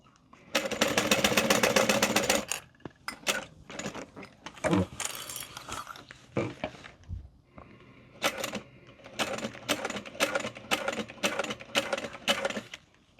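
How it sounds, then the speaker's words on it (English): Sewing machine top stitching a modified Erica bowler hat, running in bursts: a long steady run at first, then short stop-start stitches and a final series of quick runs, close and alone. "now we are going to top stitch around here"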